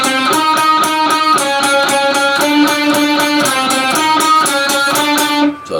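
An electric guitar plays steady eighth notes with alternate picking, the notes grouped in pairs, each pick crisp and evenly spaced at a moderate tempo, loud and alone with no talk, stopping abruptly at the end.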